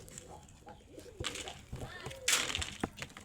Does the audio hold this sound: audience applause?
no